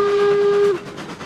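A steam locomotive whistle in the railroad video game Railroads Online blows one loud, steady tone that cuts off sharply, leaving low train rumble and hiss behind it.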